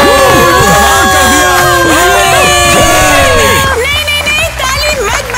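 A loud crowd of young voices cheers, whoops and shouts at a school pageant vote, with rising and falling yells layered together before thinning into scattered calls.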